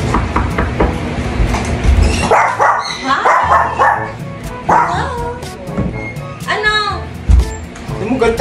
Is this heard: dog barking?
yes